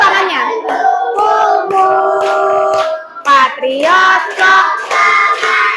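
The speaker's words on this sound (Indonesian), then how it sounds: "Sambil tepuk tangan, minta tepuk tangan." Hands clap steadily in rhythm along to the patriotic song Garuda Pancasila, the claps sitting under loud, close singing voices.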